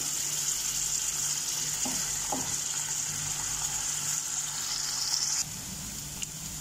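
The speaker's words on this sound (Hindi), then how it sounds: "इसे चलाना है इस तरह से हल्के हाथ इसे चलाना है कि पनीर हमारा टूटे नहीं" Paneer cubes stirred gently in a kadai of hot oil while frying to light golden, a steady loud sizzle throughout with a couple of soft utensil scrapes, no voices.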